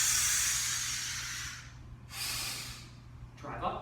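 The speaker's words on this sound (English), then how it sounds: "exhale" Heavy breaths during kettlebell goblet squats: a long forceful exhale, then a shorter one, then a quick sharp puff, each close and breathy against a faint low hum.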